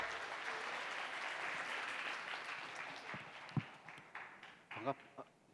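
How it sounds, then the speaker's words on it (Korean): An audience at a design forum claps in a steady, dense round of applause that gradually fades, then a few isolated claps and a voice at the microphone follow. "네, 연사님을 박수로 맞이해 주십시오"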